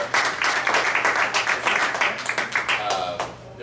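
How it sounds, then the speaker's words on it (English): A meeting audience gives a brief, steady round of applause, many hands clapping at moderate distance for a few seconds, fading toward the end. "I think we owe Jeff a round of applause."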